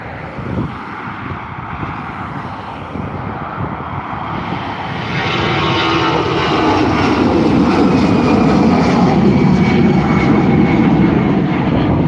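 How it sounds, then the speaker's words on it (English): An Aer Lingus Airbus A320 takes off from Dublin Airport bound for Manchester, its engine roar building from a distant rumble into a loud, sustained, broadband thrust that swells and holds. "Taking off into the wonderful blue skies is indeed the Aer Lingus A320 flight heading over to Manchester that just took off."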